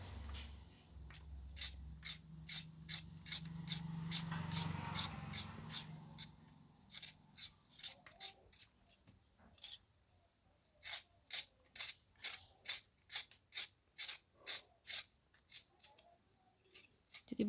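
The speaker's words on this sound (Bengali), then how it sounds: "এই যে আলু ছাড়িয়ে নেব" Potatoes being peeled by hand for an egg curry, a run of crisp, evenly spaced scraping strokes close up, each a short rasp, with a brief soft rustle partway through.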